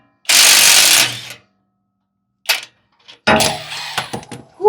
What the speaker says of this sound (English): I'm using an impact gun with a 24mm socket to go ahead and remove the nut